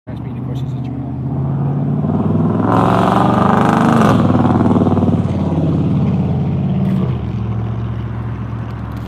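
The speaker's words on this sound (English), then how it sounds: "That's a loud neighbor with his big truck." A neighbor's big truck idles with a deep, rough engine rumble that swells loud for a few seconds as it revs, then eases back to a steady throb.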